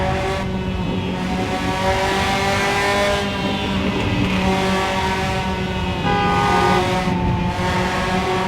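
Car horn from the Shutoko Revival Project driving game on the Tokyo elevated expressway, long sustained tonal honks repeating over a loud continuous engine drone, with brief gaps between blasts.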